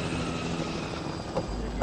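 Helicopter in the video game The Last of Us, a steady whirring rotor drone that holds at an even level throughout, with no voices over it.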